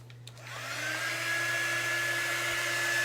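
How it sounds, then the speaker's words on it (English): A hair dryer blows steadily close by, drying a painted craft gnome, with a constant whirring hum and rising airflow hiss after it switches on. "I'm going to dry this one really quick so I can take the tape off of it too"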